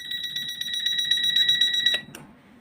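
A cheap battery alarm clock rings with a shrill, rapidly pulsing electronic beep that runs steadily for about two seconds before it is switched off with a click, leaving near silence.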